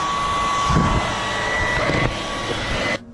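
A Dyson V11 cordless vacuum cleans the floor mats inside a van, a loud, steady, high-pitched whirring drone with a constant whine that runs nearly three seconds before cutting off abruptly.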